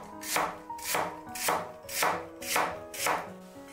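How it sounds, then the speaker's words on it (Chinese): A knife cuts peeled lotus root into thin, even slices on a cutting board, six crisp evenly spaced chops, close and clear with no talking. "去皮后放置菜板上，给它切成均匀的薄片，"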